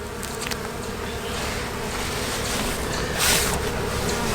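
Bees buzz close and continuously, a dense droning hum that swells slightly toward the end, with no voices.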